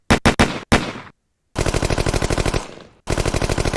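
A Thompson submachine gun fires loud and close: a few separate single shots, then two long rapid automatic bursts of evenly spaced cracks with a short gap between them.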